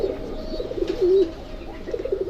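Domestic pigeons cooing close by near their chicks, a few soft low warbling coos over a quiet room background.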